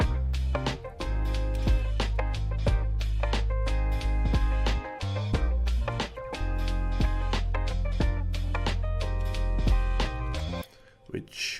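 A lo-fi hip hop beat plays with layered drums, extra percussion, crash and ride cymbals over a warm bassy chord backing. The pattern keeps a steady, punchy groove of regular hits and cuts off near the end.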